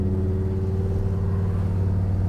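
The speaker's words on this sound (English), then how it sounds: "listen to that exhaust" A 1971 Chevrolet pickup truck's exhaust while driving, a steady deep low-pitched rumble held at a constant cruise, loud and close, with no voices over it.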